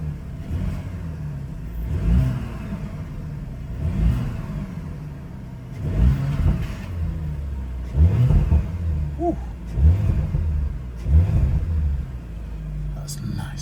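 Engine of a 2021 Audi RS5 Sportback in dynamic drive mode, revved repeatedly in about six deep, rising surges spaced a couple of seconds apart, close and loud, with a person exclaiming briefly between them.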